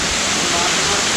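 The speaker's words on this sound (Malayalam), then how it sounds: "ഇത് തന്നെ വെള്ളച്ചാട്ടം" A multi-tiered waterfall roars in a brief, steady rush of falling water, close and loud.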